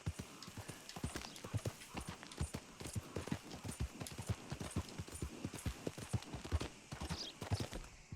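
Horse hooves galloping in Red Dead Redemption 2, a fast, steady clip-clop rhythm of hoofbeats, close and clear, with faint background sounds.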